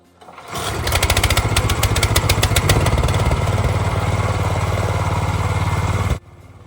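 A small engine pulling a trailer full of firewood in a village starts with a quick catch and then runs loud and steady with a mechanical clatter for several seconds before cutting off abruptly.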